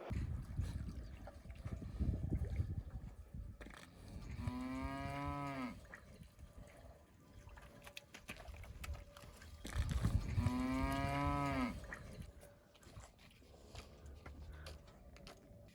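Cattle moo twice at a farm, each call long and loud and close, separated by quieter stretches of low background rumble and faint noise.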